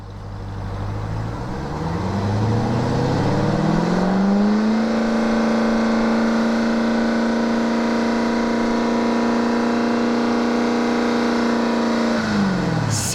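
An unmodified Jeep Trackhawk engine revs up from idle during a Vancouver Police decibel test measured about 15 meters behind the vehicle, climbing to a loud, steady high-rpm drone held for several seconds before dropping off.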